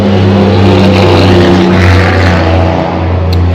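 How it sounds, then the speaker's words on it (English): A dump truck's heavy diesel engine rumbles loudly up close, a deep steady drone with strong low tones, holding level without talk. "Loud dump truck."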